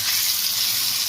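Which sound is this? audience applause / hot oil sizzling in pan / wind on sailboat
hot oil sizzling in pan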